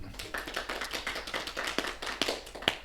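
An audience applauds in a brief, close burst of quick, dense hand claps, with a few sharper, louder claps standing out toward the end.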